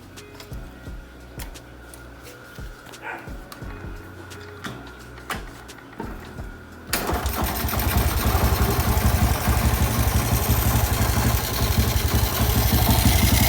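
Light ticking and clicking lead into a Honda Wave 125i motorcycle, fitted with a Wave S air cleaner, starting up and running with a loud, steady engine note close by.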